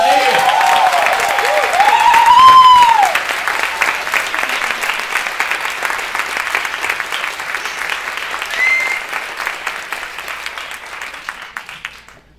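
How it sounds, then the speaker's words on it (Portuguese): Audience applause for filmmaker Cláudio Assis at a panel talk marking 20 years of Amarelo Manga, with sustained clapping from a crowd of about 100 that swells early, then holds steady and fades out, with a voice briefly heard over it. "Galera, um aplauso para Cláudio Assis aí."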